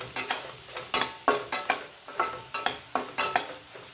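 Onion sautéing in oil for bajri vadyanchi bhaji, with a close, regular series of stirring scrapes against the pan over a soft sizzle, no voices.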